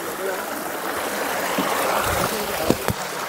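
Clean monsoon water pours steadily over a small check dam, a constant rushing wash heard close and fairly loud, with a couple of brief knocks near the end.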